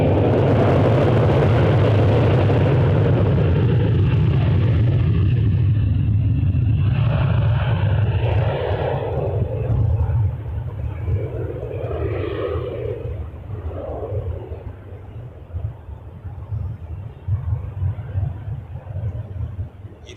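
An airliner takes off from runway 06 left at Toronto Pearson, a loud deep engine roar that slowly fades and thins as it climbs away, leaving a lower rumble.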